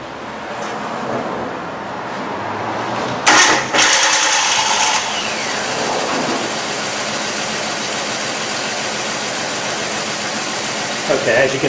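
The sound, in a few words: car engine starting and idling with a misfire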